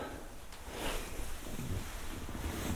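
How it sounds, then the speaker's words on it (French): Light wind blows through the woods at night, a soft steady broadband rush with gentle swells, faint and continuous with no talking. "Il y a un léger vent, mais très très léger."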